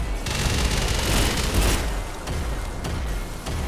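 A dense, loud burst of rapid gunfire and booming hits from the top-down shooter game Synthetik 2, firing continuously for a few seconds with no voices over it.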